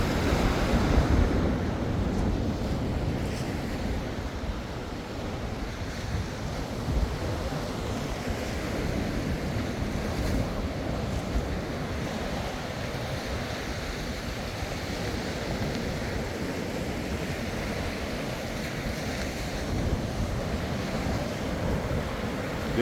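Gulf Coast surf on Panama City Beach, a steady wash of breaking ocean waves with wind buffeting the microphone, continuous and moderately loud with no talking.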